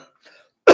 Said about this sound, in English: Sorry, I got this cough.